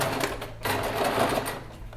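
A sewing machine runs steadily, stitching a seam on a mesh bulk bag, its motor hum and rapid needle clatter continuous and close with no pause.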